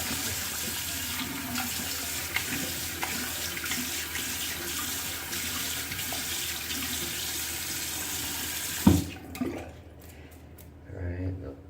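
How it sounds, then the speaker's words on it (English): A bathroom tap runs steadily while a razor is rinsed under it after shaving, a continuous splashing flow that ends with a clunk as the water shuts off. A faint trickle and some handling noise follow. "let me rinse this off"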